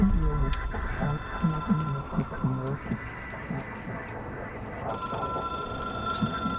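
An old telephone rings in the video game Control, its bell repeating in short rhythmic bursts over a hum of game ambience and low rumbling.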